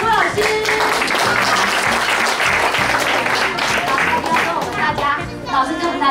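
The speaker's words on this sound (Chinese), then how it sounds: "我们现在的热烈的掌声来欢迎一下我们杨小猪老师" Warm applause fills a Lions Club monthly meeting hall as members welcome a teacher, dense sustained clapping close and loud throughout, with a few voices faintly mixed in.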